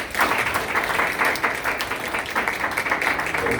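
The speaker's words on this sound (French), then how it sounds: "nous applaudissons le Seigneur" A church congregation applauds during a Nazarene Sunday service, a sustained wash of many people clapping with slight swells, continuing steadily throughout.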